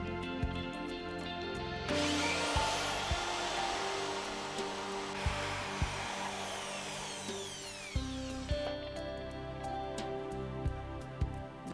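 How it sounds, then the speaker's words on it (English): A power drill whirs steadily for several seconds, boring a bolt hole into the end of a wooden stair handrail, then winds down; light knocks and handling sounds surround it. "drill a hole in the end of the handrail for the bolt"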